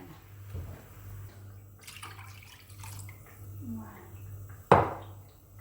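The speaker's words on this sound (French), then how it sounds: "une fois que j'ai mis le bouillon de légumes, je rajoute l'équivalent donc de 4 tasses" Vegetable broth is poured into a pot of rice. Faint trickles and small splashes sound over a low background hum, then a sudden, louder splash of liquid arrives near the end.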